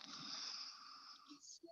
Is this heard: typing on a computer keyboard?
no